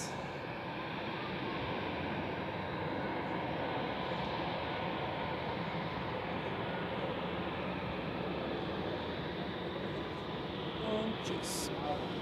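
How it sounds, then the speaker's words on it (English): A KLM airliner departs on runway 28 at Zurich Airport on a foggy day, giving a steady, broad jet engine roar that holds at an even level throughout, heard from a distance. "And we have KLM departing on runway 28"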